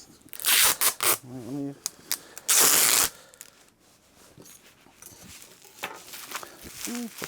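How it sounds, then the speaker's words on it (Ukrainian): Adhesive tape is pulled from the roll and wrapped while packing food for drone delivery to soldiers in trenches: two loud ripping tears, then softer crinkling and handling, with someone speaking throughout. "Беремо скотч."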